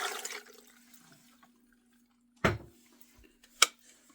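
Water poured into a pressure cooker, a short splashing rush that fades within half a second, followed by two sharp clunks of the pot or lid, with a steady low hum underneath.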